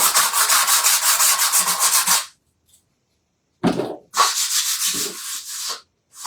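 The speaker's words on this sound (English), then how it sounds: "I'm just going to sand it a little bit." Sandpaper rubbed by hand across a chalk-painted Valentine wreath craft piece, a close, scratchy stroke run of about two seconds, a pause, then a short scrape and a longer burst of brisk rubbing.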